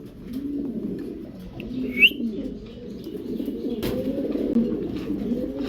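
A pair of German Polish owl pigeons coo in repeated, close, rolling phrases, with a brief sharp chirp partway through and no talking.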